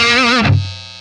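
A short burst of distorted electric guitar, a PRS Silver Sky SE, a wavering sustained note that cuts off into a brief buzzing decay.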